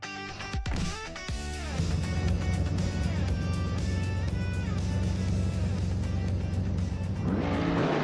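Race cars launch off the line at the Alastaro Sprint long track in a racing game, engines revving hard through rising gear shifts in a loud sustained roar, a sharp tyre squeal at the start.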